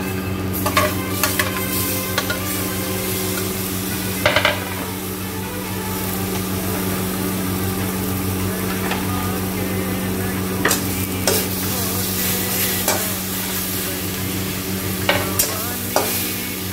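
Tomatoes fry in a pan for a moringa drumstick curry, stirred with frequent scraping clicks over a constant sizzle and a low steady hum underneath, close and fairly loud.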